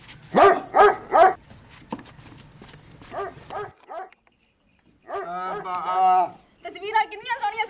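A dog barks in a quick run of sharp, loud yelps near the end of a comedy sketch, after a stretch of people talking and a brief silence.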